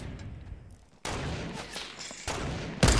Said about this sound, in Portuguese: Parece que tem sniper cantando aqui na gente.